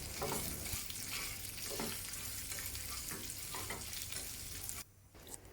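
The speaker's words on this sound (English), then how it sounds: "Then mix the fried shallot with the pork." Fried shallots being stirred into braised pork in a pan for Taiwanese lu rou fan, with a steady loud sizzle and scraping stir strokes throughout that drop away abruptly near the end.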